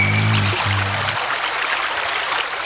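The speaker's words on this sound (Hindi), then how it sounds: "जगह जगह पानी के बहने की आवाज" Water flows in mountain streams along a trail, a soft, continuous rushing and trickling, briefly overlapped at the start by a low humming tone.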